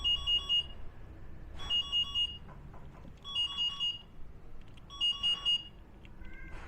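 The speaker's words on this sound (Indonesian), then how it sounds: "ini adalah alarm untuk menandai di mana kita parkir" Bright electronic parking locator alarm beeps from a Viar C2 electric bicycle chirp in repeated bursts of three, with short pauses between each group and a faint background hum.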